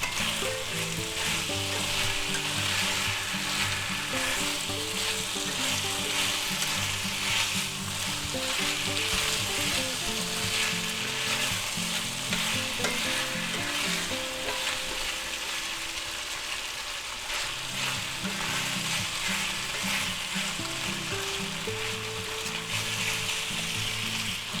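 Chicken pieces sizzle steadily as they brown in a hot stir-fry pan, a dense, continuous frying hiss at close range with occasional stirring and no talking.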